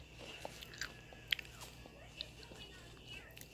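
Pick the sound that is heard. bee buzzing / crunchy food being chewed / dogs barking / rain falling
crunchy food being chewed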